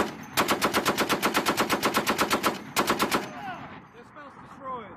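Machine gun fire in a Marine live-fire exercise at 29 Palms: two loud, rapid bursts of evenly spaced shots, the second shorter, followed by echoing reverberation fading across open desert.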